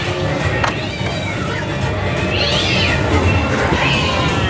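Cat meows play as a horror effect on a Halloween Horror Nights Terror Tram ride, rising in short wavering tones over steady crowd and vehicle noise with excited voices nearby.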